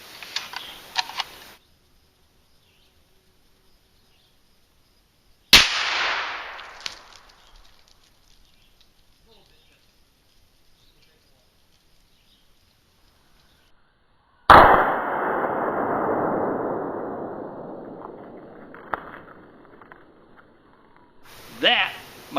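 A suppressed 450 Bushmaster rifle fires at a steel pin target: two sharp, loud reports spaced several seconds apart, each trailing a long fading wash, among quieter clicks and handling sounds.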